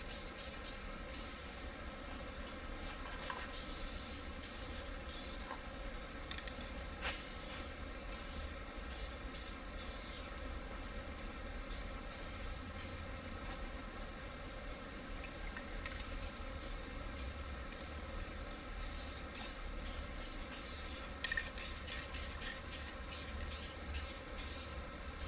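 Spray paint hisses in long, steady bursts as old car door panels are coated, with short pauses between passes and a continuous close, even spray throughout.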